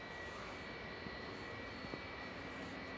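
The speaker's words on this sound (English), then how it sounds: "Scottish Rocket taxiing out" A Scottish Rocket airliner taxis out at Manchester Airport on a freezing morning, its jet engines giving a steady, moderately distant roar that holds evenly throughout with a faint high whine on top.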